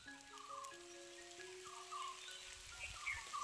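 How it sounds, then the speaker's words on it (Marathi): Rain falls in a steady soft patter across an outdoor homestead, with a few thin bird calls sounding through it. "चला पाऊस आला"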